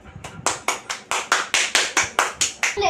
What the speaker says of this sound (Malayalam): നല്ല ഗ്രേറ്റ് ആയിട്ട് പാടിയപ്പോ എല്ലാരും ക്ലാപ്പ് കൊടുത്തേ.